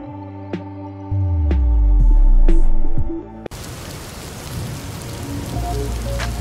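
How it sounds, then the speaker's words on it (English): Steady rain falling outside, a dense hiss of drops that starts abruptly after a stretch of musical tones and continues evenly at moderate loudness, with no voices. "It's raining outside."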